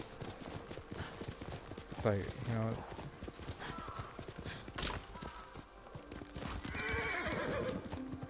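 Horse hooves clip-clopping with a whinny, from a mounted horse in the samurai video game Ghost of Tsushima, heard beneath game music and someone talking over it.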